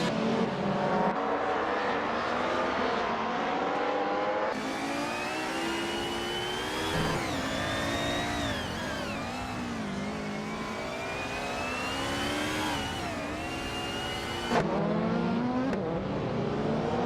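Race cars in a racing game, including a 1995 BMW M3 GR Evo, roaring off the start at Autodromo di Franciacorta. Loud sustained engine revving with rising and falling pitch sweeps as the cars accelerate and pass by.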